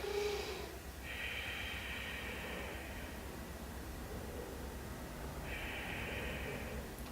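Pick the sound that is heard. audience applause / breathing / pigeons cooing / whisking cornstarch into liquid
breathing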